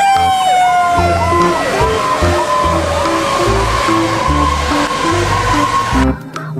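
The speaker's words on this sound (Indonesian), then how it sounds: "Yang ini ada mobil pemadam kebakaran." A toy fire engine siren wails in a rising and falling electronic tone, loud and close, over a repeating jingly electronic tune, stopping abruptly near the end.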